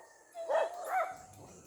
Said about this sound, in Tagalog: Daming aso dyan.